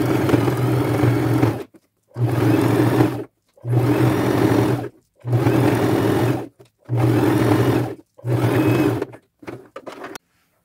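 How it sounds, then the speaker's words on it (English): Sewing machine double stitching a boho fringe bag, six loud runs of rapid mechanical whirring, each one to two seconds long and separated by short silent pauses, then a couple of brief final bursts. "So I will double stitch this from this pin to this, come over here and do the same thing."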